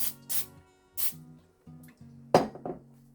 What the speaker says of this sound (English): So now I'm gonna spray the tops, a little bit more cooking spray.